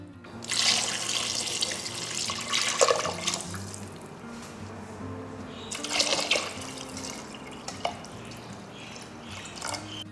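Water pours into a soup pot holding spare ribs, tomatoes, carrots and ginger, a soft splashing stream in two bursts close by, with no talking.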